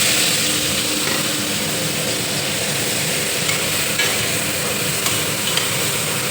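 Onions hitting hot oil with spices in a pan give a loud, dense, steady sizzle with faint stirring clicks underneath and no talking.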